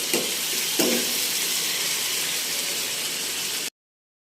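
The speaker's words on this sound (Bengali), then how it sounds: "হালকা করে নেড়ে মিশিয়ে আমি ভেজে দেব" Bele fish frying in a pan, a steady loud sizzle with a couple of brief stirring scrapes near the start, running alone before cutting off abruptly.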